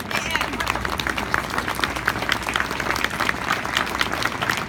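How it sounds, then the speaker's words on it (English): Audience applause at a community gathering for an advocacy organization, dense rhythmic clapping mixed with crowd murmur, steady and fairly close throughout. "Will you all please stand and accept your applause?"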